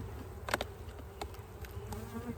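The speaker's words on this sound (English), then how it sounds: "It's got bees all over it, which is fine." Honey bees buzz steadily around a hive's quilt box, a continuous close insect drone with a few louder passes near the listener and no talking.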